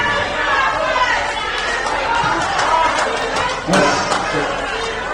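Hecklers in a crowd yell at a political event, their voices overlapping into a loud, continuous jumble of shouting with a few thuds.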